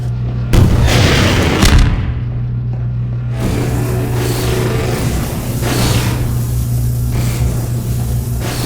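Half-Life 2 confiscation field disintegrates the player's weapons with a loud booming, crackling burst followed by a sustained electrical hum and rumbling energy sweeps, heavy and close.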